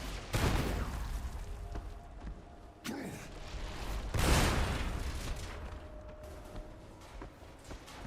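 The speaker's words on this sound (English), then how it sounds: "That was a big enough explosion." Big explosions in the PC game Marvel's Avengers, with several loud booming blasts bursting out over a constant rumbling wash of game noise.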